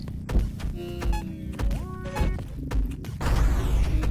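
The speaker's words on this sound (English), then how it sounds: "Ugh, I hit myself with the bomb" A bomb goes off on the player character in the video game Songbringer, a sharp thump and crash among other clattering game effects and short tonal blips, loud and without speech.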